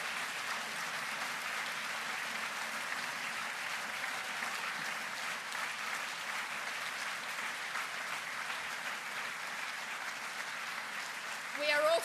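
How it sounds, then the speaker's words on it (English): Green Party conference audience applauding in a hall, a steady, sustained wash of many hands clapping at moderate distance, running unbroken for the whole stretch. "we should begin conference by giving a round of applause for her great work."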